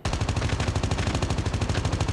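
Rapid automatic gunfire in the zombie mode of Call of Duty Mobile, a loud, close, evenly spaced burst of shots lasting about two seconds with no talk.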